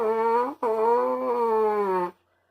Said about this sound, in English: Clenched teeth sound like this.